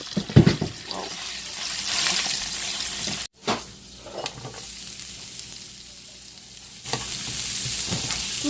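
Red and white onions hit a hot pan where chuck roast is cooking for tacos, giving a loud sizzle stirred around, with a brief cut, a quieter stretch, then a renewed hiss.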